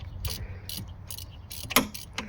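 Faint, quick ratchet clicks from a wrench loosening a 14mm bolt on a Kia Soul with a 2015 GDI engine, coming in short bursts of ticking.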